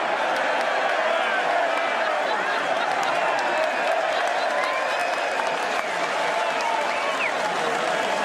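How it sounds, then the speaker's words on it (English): A cricket stadium crowd boos in a dense, continuous roar of many voices that holds steady and loud throughout. "This is a cricket one. Like the whole crowd is just booing."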